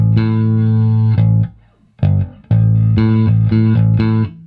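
A Fender American Original '70s Jazz Bass played through both pickups, tone mostly open, plays an octave riff: sustained, bright plucked notes in short phrases with brief gaps, loud and alone.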